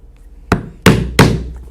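Holes are punched in the leather belt tab of chaps yokes with three sharp, loud mallet strikes on a punch, the last two close together, each ringing briefly in a quiet room.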